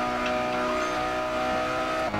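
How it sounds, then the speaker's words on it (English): Mazda Roadster race car engine in Gran Turismo 6, a steady droning whine held at constant pitch for about two seconds and dominating the mix, with a slight dip at the end. "we can't hear anything over the sound of your car"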